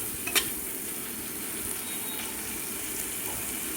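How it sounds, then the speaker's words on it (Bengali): Chopped tomato, ginger paste and salt fry in a pan with a steady, moderately loud sizzle and hiss that runs the whole time, with a faint clink of a utensil near the start. "এবার ভালো করে এটাকে ফ্রাই করে নিচ্ছি।"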